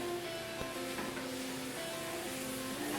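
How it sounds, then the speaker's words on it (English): Tomato, garam masala and spices sizzle steadily in a hot pan, a soft continuous frying hiss at low level throughout, with no voices. "Let that toast just a little bit, get those spices in there, infuse that flavor."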